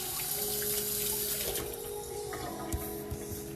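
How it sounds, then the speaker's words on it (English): Tap water runs steadily into a kitchen sink as a knife is rinsed under it, a continuous close splashing hiss with brief clinks of the blade. "I'm going to rinse my knife off."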